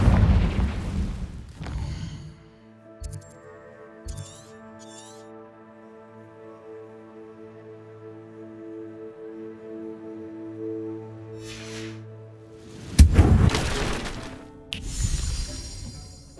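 A Confringo fire spell exploding in Hogwarts Legacy, with short bursts at the start and end framing a long ringing magical tone that hums and fades in between, and no talk.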